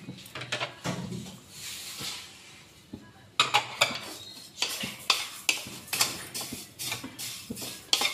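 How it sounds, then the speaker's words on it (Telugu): Vermicelli frying in ghee in a pan, heard as repeated clinks and scrapes of a utensil stirring against metal, close and fairly loud, in an irregular rhythm of sharp hits over a faint background sizzle, with no talk. "రెండు కప్పులు సేమియా నెయ్యిలో వేయించుకోవాలి."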